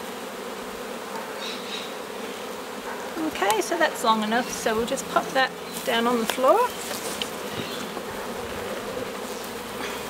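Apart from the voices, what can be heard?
honey bees buzzing at an opened hive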